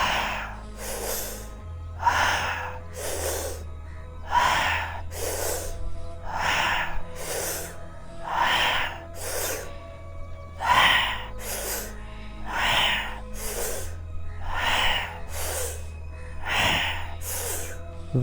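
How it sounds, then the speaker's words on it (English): Rhythmic breathing during a guided meditation exercise: forceful breaths in and out repeat in a steady pulse about once a second, close and loud, over a low sustained drone. "Rhythmic breathing."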